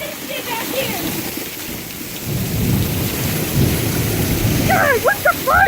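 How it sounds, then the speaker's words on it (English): Heavy rain pours steadily with deep thunder rumbling underneath, loud and continuous throughout, with a few brief chirps near the start and end. "This is the most rain I've seen in a long time."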